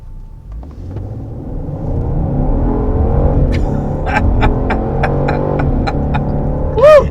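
A 2022 Genesis GV70 SUV with the 2.5-litre turbo engine and all-wheel drive accelerates hard from a stop, its engine note building into a steady rising rumble heard from inside the cabin.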